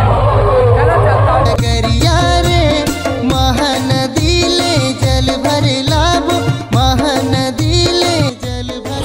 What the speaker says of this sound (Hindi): आप मन एक बार महासमुंद के भीड़ देखो, पूरा एकदम क्राउड संगवारी हो